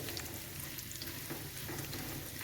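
Carrots lightly roasting in a pan with fennel seeds and raisins, a steady close sizzle and crackle of frying with faint stirring, continuous and even throughout with no speech.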